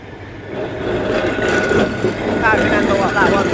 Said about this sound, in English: Oh, I thought that sounded like a tram.